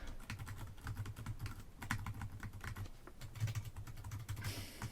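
Steady typing on the Orange Pi 800's membrane keyboard, a Raspberry Pi 400-style computer keyboard, with continuous soft key presses at an even pace throughout.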